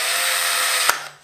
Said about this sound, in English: it'll open up the chuck to hold your piece in place